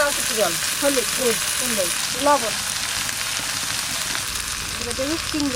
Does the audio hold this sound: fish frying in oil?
yes